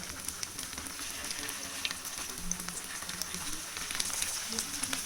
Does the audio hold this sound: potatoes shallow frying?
yes